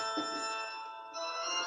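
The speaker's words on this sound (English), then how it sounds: "That's just my alarm for something." A phone alarm notification ringtone chiming a steady electronic melody with sustained tonal notes, fairly quiet, with a brief shift in the middle and no talk.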